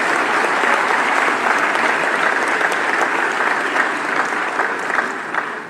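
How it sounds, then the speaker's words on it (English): Sustained applause from a large audience honouring the electoral commission members and staff at a results event, loud and steady throughout with no talk over it. "let's give all the members of the Commission and the staff a round of applause"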